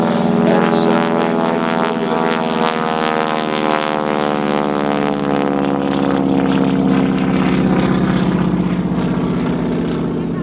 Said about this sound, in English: Now Pete, we've seen one T6 go past us, coming back again, trailing smoke